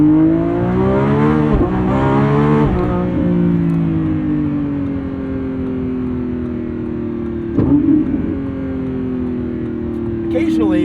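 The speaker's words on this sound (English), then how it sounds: "but not before I rev it out one more time." Lamborghini Revuelto, a 2025 flagship with a 1,001 hp V12, revving hard nearby, its pitch rising and falling in a loud sustained engine note with a brief burst near the end, with talk likely mixed in.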